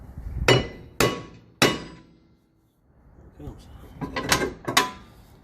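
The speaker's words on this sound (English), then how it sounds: "now it's time to get this brake rotor off" Hammer blows strike a stuck rear brake rotor on a 2015 Toyota RAV4: three loud metallic clangs about half a second apart, a short pause, then a quicker cluster of ringing hits close by.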